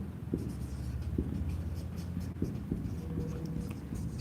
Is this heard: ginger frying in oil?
no